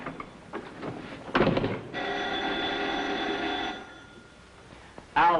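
Office telephone bell ringing in a steady metallic trill for a couple of seconds, fairly close, preceded by brief clattering and rustling, with no talk over it.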